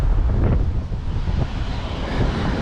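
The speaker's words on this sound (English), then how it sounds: "it's windy out right now" Strong outdoor wind buffets the microphone in a steady, loud low rumble with gusty swells, heard near the Los Angeles Convention Center.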